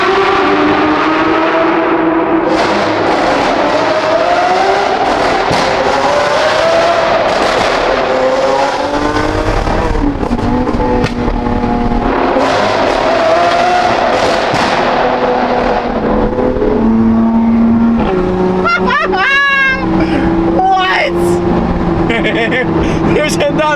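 A loud sports car exhaust roars, revs and crackles with sharp pops and bangs that mark shooting flames, on a busy street alongside other cars, with people talking and calling out over the din.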